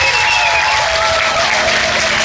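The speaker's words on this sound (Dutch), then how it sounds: "ik wil er een heel groot applaus voor" A gala crowd claps loudly and continuously throughout, a dense wash of applause with some tonal music or voices faintly underneath.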